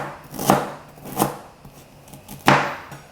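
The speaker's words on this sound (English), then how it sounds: "Once I've peeled the ginger, I like to just cut it into thin slices" A knife slices through peeled ginger on a cutting board in three crisp, separate strokes, each a sharp close thunk with a short scraping tail, with no talking.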